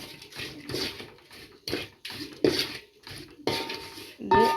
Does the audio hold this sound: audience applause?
no